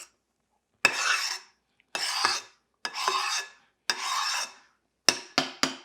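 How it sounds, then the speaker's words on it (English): A spoon spreads keto pumpkin spice cupcake batter, dairy, nut and flour free, into a silicone cupcake mold, making about five separate drawn-out scraping strokes followed by three quick short scrapes, close and clear with no voices. "I do this with my spoon and not a spatula because I have a better feel with my spoon"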